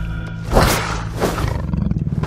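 A tiger roars in a 3D animated fairy-tale cartoon, with a loud, close growling roar swelling twice and ending in a rumbling, pulsing growl. No one speaks.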